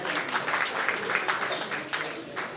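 Audience applause at a mushaira welcoming a poet, steady crowd clapping at moderate volume with some voices mixed in underneath.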